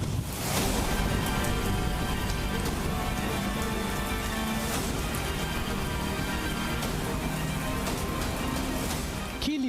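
Monsoon rain swells Shankar waterfall in Gujarat, its water rushing in a loud, steady, broadband roar that holds unbroken from start to end with no voices.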